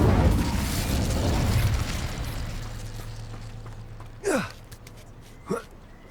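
A fire spell cast in a Hogwarts Legacy battle: a loud roaring burst of flame that fades over a couple of seconds, followed by two short whooshing magical sweeps.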